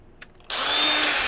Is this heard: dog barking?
no